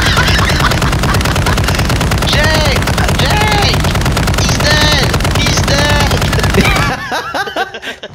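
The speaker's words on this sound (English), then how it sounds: "Why do you have a big ass gun?" A big, heavy gun in Call of Duty Modern Warfare 2 fires a loud, sustained rapid burst for about seven seconds, close and dominant, with faint voices underneath, before cutting off into quieter game sounds.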